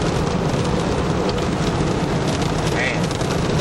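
A heavy monsoon downpour pounds on a car on the road near the Grand Canyon, a dense loud continuous roar of rain filling everything, with voices talking inside the car.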